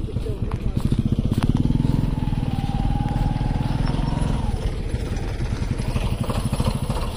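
Tractor engine on a waterlogged riverside path near the Ganga, a steady low throbbing putter running close and loud throughout, with people talking over it.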